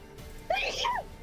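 A single short sneeze rises sharply out of quiet background hum, close and fairly loud, lasting about half a second.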